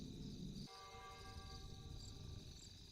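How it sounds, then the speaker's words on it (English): Ambient bell on a Warcraft III map, one soft strike that leaves a sustained, slowly fading ring over low, steady game background. "Love the bell, by the way."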